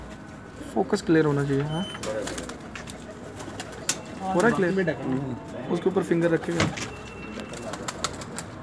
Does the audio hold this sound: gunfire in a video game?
no